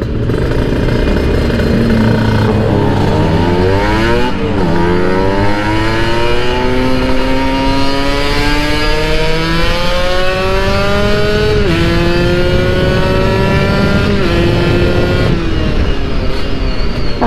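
A motorcycle fitted with an RS1 exhaust revs hard and loud up close, its pitch climbing in repeated rising sweeps through the gears and dipping between shifts over a sustained roar.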